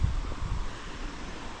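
Steady wind buffets the microphone at a Middle Creek battlefield site in Kentucky, with low rumbling gusts that are strongest at the start and then settle into a constant broadband rush. No one speaks.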